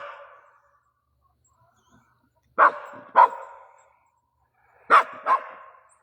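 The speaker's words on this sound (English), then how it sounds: "My dog is saying hi to him" A small pet dog barks in two quick pairs of sharp, fairly close woofs, separated by a few seconds of quiet, outdoors near a garden.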